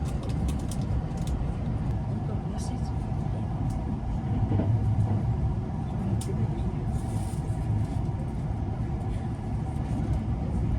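Onboard a JR West Shirasagi limited express running from Nagoya toward Tsuruga, a steady low rumble of wheels and motors fills the cabin, constant and moderately loud throughout with faint passenger murmur in the background.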